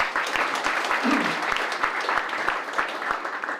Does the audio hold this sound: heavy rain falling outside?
no